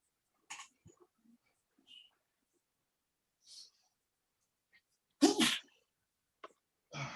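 A sharp, loud sneeze stands out among a few quieter breaths and small noises, with a brief voice near the end.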